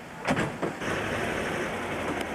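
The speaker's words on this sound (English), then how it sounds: "In the background, you may be able to hear in the next couple of seconds a bus." A bus rumbles past in busy early-1980s street traffic in Verona, with a couple of short mechanical bumps and then a steady broad road noise.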